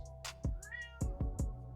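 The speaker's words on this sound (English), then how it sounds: "the noises you may or may not hear in the background at the moment is my cat" A pet cat meows and yowls in a few short, drawn-out calls close by, with brief pauses between cries in an otherwise quiet room.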